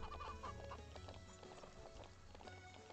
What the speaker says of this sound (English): Excuse me, chickens.